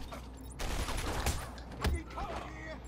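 Gunfire aimed at Batman in Batman: Arkham Asylum, a few sharp shots ringing out over game ambience, with a voice talking around them.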